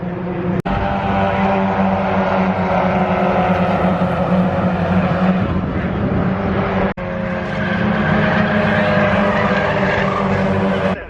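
Mazda MX-5 race cars circulate in qualifying at Silverstone National Circuit in cold, wet conditions, a steady loud roar of engines running throughout with brief sharp dropouts, heard from a spot trackside.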